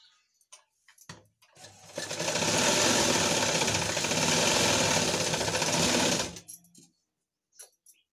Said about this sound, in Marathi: अस्तरच्या ब्लाऊजला आपण इथं या पद्धतीने हे स्टिच करू शकतो, जेणेकरून आपला वेळ पण खूप वाचतो. खालच्या साईडने अर्धा इंचाने टीप मारून घ्यायची.